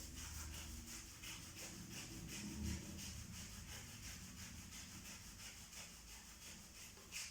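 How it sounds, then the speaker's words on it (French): Palms rub briskly over the lower back and around the waist during Do-In self-massage, a close, soft, rhythmic swishing of repeated strokes at an even pace, with no talking. "On frotte d'abord les reins, puis tout le tour de la taille jusqu'au nombril."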